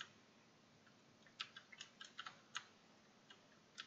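Faint, scattered keyboard key clicks, a few quick taps clustered together then sparse single presses, close by in a quiet room.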